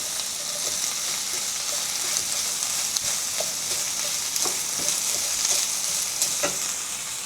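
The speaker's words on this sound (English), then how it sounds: "Now listen to the sizzling sound," Beef and cabbage stir fried over high heat in a pan, a steady close sizzle with occasional crackles and stirring clinks throughout, no talking.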